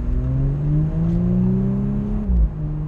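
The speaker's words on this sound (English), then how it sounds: "we are in sport mode, but we're not in dynamic mode, so you do hear nice exhaust noises from this thing." A 2018 Audi S5 Cabriolet in sport mode gives a steady engine and exhaust drone, rising slightly in pitch and swelling briefly near the end, heard from inside the car with no talk.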